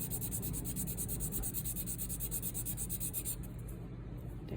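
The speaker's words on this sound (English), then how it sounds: "I'm just going to flip my board around to the area where it's pretty new and just rub it vigorously" Scratched jewelry is rubbed vigorously back and forth on a fairly new polishing board, a close, continuous rhythmic scrubbing with fast regular strokes and no talking.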